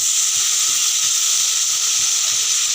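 Garlic sizzling in hot oil in a pan with already-fried potatoes and eggplant, a steady close hiss with faint stirring ticks underneath, no voices.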